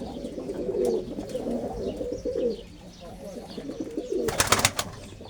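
Tumbler pigeons cooing close by in a loft, soft repeated throaty coos with a brief flutter near the end, while someone talks quietly.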